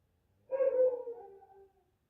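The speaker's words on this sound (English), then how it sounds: "My dog is a pretty obedient dog" A dog lets out a single mournful howl lasting just over a second, rising then trailing off, fairly close and alone in an otherwise quiet room.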